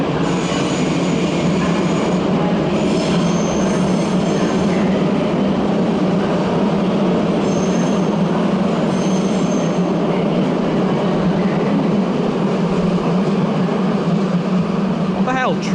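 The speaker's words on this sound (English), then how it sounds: "Got an ICE service here. Heading to Basel SBB." An ICE train bound for Basel SBB pulls into Köln Hauptbahnhof with a loud, constant rolling rumble, high wheel squeals rising over it, and a sharp screech near the end.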